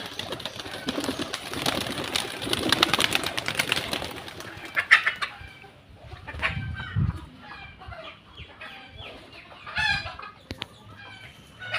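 Domestic pigeons stir and call near their coop alongside backyard chickens, with fluttering, clucks and coos rising from a busy burst into scattered calls, fairly close with no talk.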